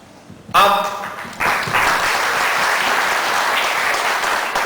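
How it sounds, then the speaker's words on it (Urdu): Loud audience applause breaks out at a Pakistani community celebration of Pakistan Day (23 March) in Spain, a dense, steady wash of clapping from a large crowd that swells after a brief pause and carries on to the end. "تالیاں بجایا کریں."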